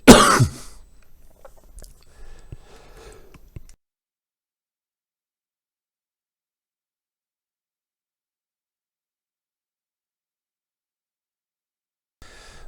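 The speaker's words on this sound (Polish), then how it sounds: "przepraszam, kaszel mnie wziął" A single close, harsh cough bursts out at the start, followed by a few seconds of faint throat noises and rustling, then silence.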